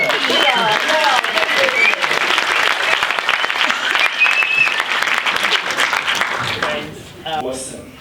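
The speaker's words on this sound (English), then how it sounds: "those of you who can whistle, whistle as well as a great round of applause." Loud, dense applause from a summit audience welcoming a speaker to the stage, with sharp whistles cutting through the clapping, which fades out near the end before a voice begins speaking.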